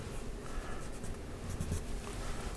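An eraser works steadily across paper dusted with sepia powder while a lion drawing is brought out, a soft continuous scrubbing and rubbing, close and faint, with no talk.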